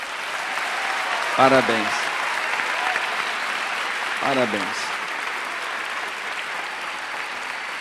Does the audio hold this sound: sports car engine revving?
no